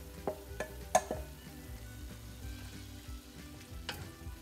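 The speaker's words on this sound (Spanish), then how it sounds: "Le vamos a agregar nuestro jitomate picadito." Chopped tomato goes into a pan of frying ground beef, garlic and onion, giving a soft steady sizzle with a few sharp clatters and stirring scrapes, close and quiet with no talk.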